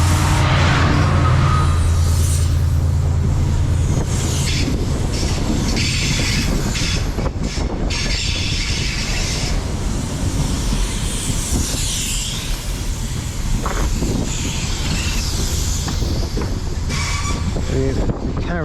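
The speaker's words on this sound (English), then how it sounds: "coming in is the 11:26 Chiltern Railway service to Birmingham Moor Street, and it is a 68" Chiltern Railways Class 68 diesel locomotive hauling a passenger service to Birmingham Moor Street through a Buckinghamshire station platform, a loud, steady rumble with wheel noise and a brief squeal sustained throughout, no talk.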